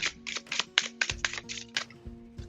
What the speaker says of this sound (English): It was a messy shuffle.